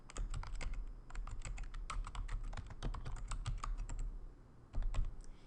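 Rapid keystrokes on a computer keyboard clatter quietly and continuously, with a brief pause near the end before a final few taps, while a login username and password are entered.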